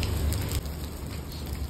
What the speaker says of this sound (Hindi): मूवी खत्म होके बाहर आए तो देखो कितनी तेज बारिश हो रही है